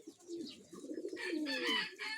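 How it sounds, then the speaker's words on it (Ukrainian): Several pigeons coo at an evening feeding spot, low rolling calls repeating close by, with brighter chirps from other birds rising over them in the second half. "Голуби."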